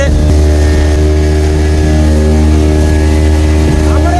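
A motorboat carries riders across Massanjore dam, its engine giving a loud, steady drone that holds unbroken from start to finish, close by.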